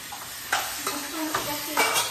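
Prawns hitting a hot pan and frying, a steady close sizzle with a few scraping stirs of a utensil against the pan and no talk.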